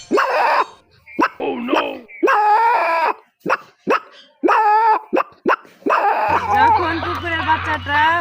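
A person imitates three kinds of dog calls, producing a series of barks, yips and whimpering whines in varied bursts, close and loud.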